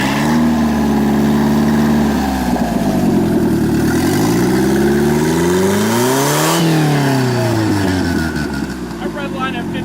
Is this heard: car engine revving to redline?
yes